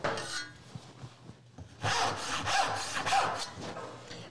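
A freshly sharpened hand saw cuts through wood in a few rhythmic strokes, each one a loud, close rasping sweep after a quieter start.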